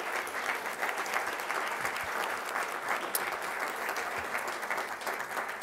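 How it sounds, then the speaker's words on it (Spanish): An audience at a book presentation on family types and wellbeing claps continuously, a dense, steady applause that fills the room from start to finish. "le pedimos a la diputada Flor Ayala, un aplauso, por favor."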